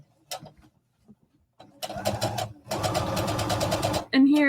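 A sewing machine stitches a jacket in short starts and stops, then runs in one steady whirring burst for a couple of seconds, close and clear, with a voice talking before and after.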